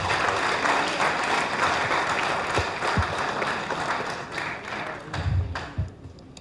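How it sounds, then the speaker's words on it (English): An assembled audience gives Governor Stevens another round of applause, a full, loud burst of clapping from a large crowd with occasional thumps and taps mixed in, tapering slightly toward the end. "I think Governor Stevens deserves another round of applause."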